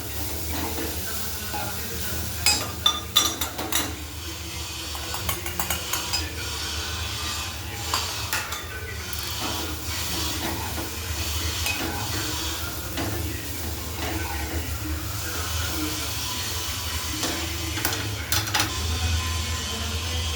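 Softened onions in a pan take new ingredients and are stirred, with a low sizzle under repeated close scraping and clinking of a spoon against the pan, busiest early on and then steadier.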